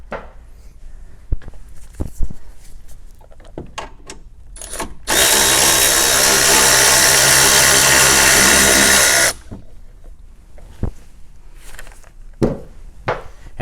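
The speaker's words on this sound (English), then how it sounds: "Gives us a little more space as we unbolt it. And 10 millimeter, both the bolts are." A power driver whirs loudly for about four seconds, unbolting the 10 millimeter bolts on a car's windshield washer assembly. Scattered clicks and clanks of handling the parts come before and after.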